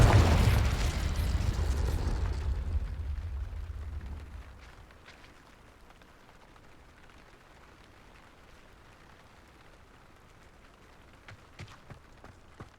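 A Confringo blast spell explodes in the video game Hogwarts Legacy: one loud, close boom that rolls and decays over about four seconds, leaving a quiet ambient bed with faint scattered crackles.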